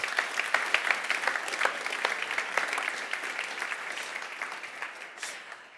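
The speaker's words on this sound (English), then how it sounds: "So please give a warm applause again to all the speakers that were here tonight." Warm audience applause for the speakers at the True Price Festival 2022, a steady wash of many hands clapping that fades gradually toward the end.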